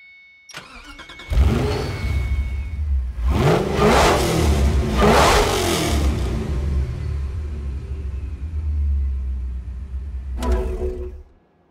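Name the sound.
Ferrari 599 GTO engine in video game Forza Motorsport 4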